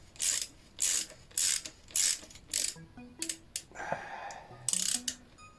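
A part is screwed in slowly and carefully during a homemade build, producing a series of short, close ratcheting click bursts in an uneven rhythm, with a few faint creaks and taps between them.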